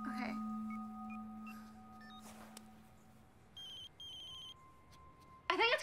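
A cell phone rings in a quiet room as a series of faint electronic tones and short repeated beeps, ending in a sudden louder burst.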